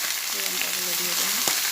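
Slit chillies dropped into hot oil for a fish-head and jackfruit-seed greens dish, a loud close crackling sizzle with a brief clatter near the end.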